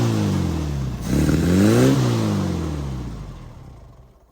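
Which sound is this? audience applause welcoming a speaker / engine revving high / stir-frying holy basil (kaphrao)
engine revving high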